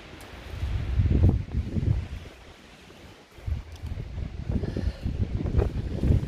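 Wind gusts buffet the microphone on a mountain hiking trail in New Hampshire, rising and falling rumbling surges, loud and close, with no voices.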